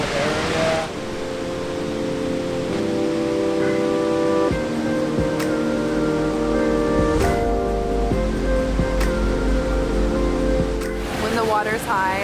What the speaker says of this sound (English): These waterfalls are so strong, it's so cool.